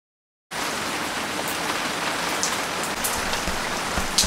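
Rain in Bali starts abruptly and pours steadily, a dense close hiss of drops pattering on surfaces with occasional louder splats, continuous and fairly loud with no voices.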